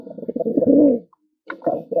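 A pigeon coos nearby in two loud bursts of soft, throaty warbling separated by a brief pause, heard alone.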